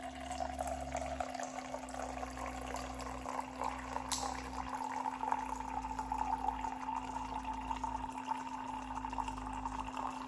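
Battery-powered instant water heater pumping water into a cup, a quiet steady trickle and pour with a faint motor hum underneath, continuous and close, no talking.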